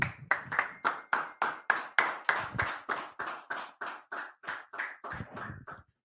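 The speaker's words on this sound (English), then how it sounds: "go ahead, clap it up" A small group at a Tuesday brotherhood class claps hands in a steady unison rhythm, about sixteen sharp, evenly spaced claps over six seconds, close and clear with no talking.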